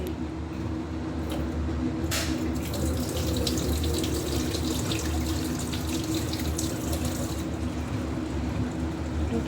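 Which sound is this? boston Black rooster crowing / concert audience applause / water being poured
water being poured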